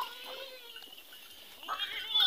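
Mixed-breed goats at a farm make faint, thin bleating calls amid quiet background noise, growing slightly louder toward the end.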